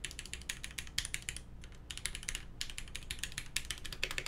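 A rebuilt Noxary 268 mechanical keyboard is typed on in quick bursts of crisp, clacky keystrokes with brief pauses between runs, close and clear, with no talking.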